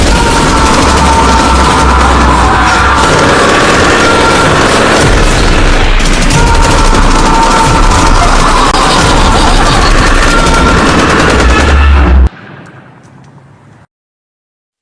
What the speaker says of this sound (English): We're going to shoot him multiple times, once and for all.